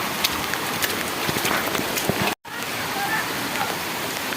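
Steady rain falls on surfaces outdoors in an Indian home setting, a dense continuous hiss with scattered drops pattering nearby, briefly cut off mid-clip before resuming.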